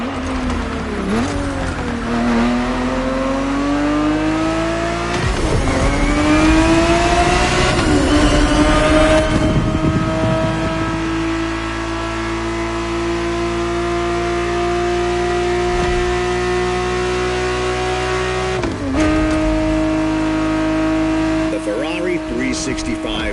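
A Ferrari 365 GTB4 from the 1970s revs in The Motor Fest video game, its engine note climbing and dropping through gear changes with tire squeal, loud and continuous.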